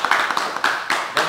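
Applause from a crowd at a Depok Vespa Club scooter gathering, a few bursts of hand clapping that rise and fade over a noisy background of voices.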